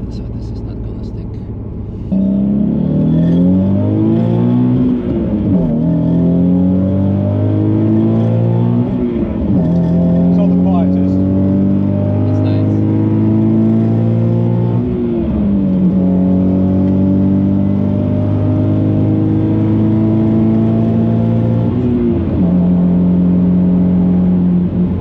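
A modified Nissan 370Z V6 lapping the Nürburgring, heard from the cabin as a loud engine that revs up repeatedly through the gears with sharp drops at each shift and steady acceleration between.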